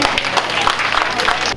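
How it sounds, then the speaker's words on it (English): An audience at a July 4th pancake breakfast in Bakersfield applauds, a brief, dense burst of clapping that fills the room and fades at the end. "That deserves an applause."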